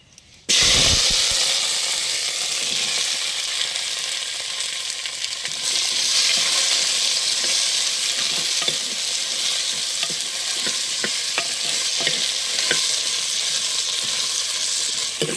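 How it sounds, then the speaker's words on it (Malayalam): Loud, steady sizzling of papaya pieces sautéing in hot coconut oil, with occasional scraping stirs and crackles throughout; no voices. "ഈ പപ്പങ്ങ ഒന്ന് ഈ എണ്ണയിലിട്ടൊന്ന് വാട്ടിയെടുക്കണം"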